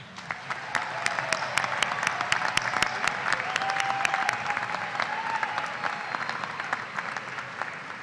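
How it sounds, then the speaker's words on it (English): A commencement crowd at a university ceremony gives a sustained round of applause, many hands clapping steadily and evenly with sharp individual claps standing out near the front. "please join me once again in recognizing these impressive individuals for their accomplishments by offering another round of applause"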